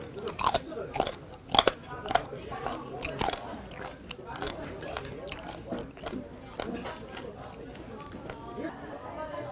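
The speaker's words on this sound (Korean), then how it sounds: "이 안 좋으신 분들 오돌뼈 씹는 소리." Crunchy pork cartilage being chewed at a Mokpo local restaurant, with several sharp bites near the start, then steady close wet crunching and mastication throughout.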